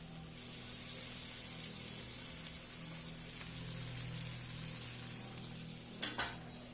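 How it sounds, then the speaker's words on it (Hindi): Mixed vegetables frying in a pan for a home dinner, a steady, even sizzle under a low constant hum with no speech, ending in two short sharp clatters near the end. "मैंने यहाँ पे एक सब्जी चढ़ा दिया है रात के खाने के लिए"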